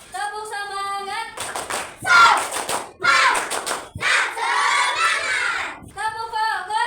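A classroom of children doing a rhythmic clapping chant, tepuk semangat, with groups of claps mixed with loud shouted chanting voices and a teacher's voice at the start and end.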